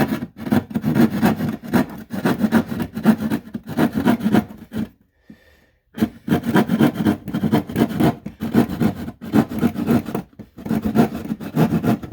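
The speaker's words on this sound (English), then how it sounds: "I like these Irwin sheetrock saws." An Irwin sheetrock saw cuts drywall in a garage with repeated rasping push-pull strokes in rhythmic bursts, broken by a pause of about a second midway and another brief gap near the end. The sawing is close and fairly loud.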